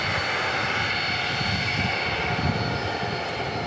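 Jet airliner engines at DFW International Airport make a loud, steady whine and roar that holds constant throughout, with broadband rumble beneath.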